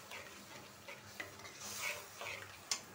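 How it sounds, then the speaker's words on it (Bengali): Spiced masala paste being sautéed in a pan for a Bengali dish with small potatoes and kachki fish, a soft continuous sizzle with intermittent spoon scrapes and stirring clinks, fairly quiet and without talk. "মশলাটা কষানো হোক"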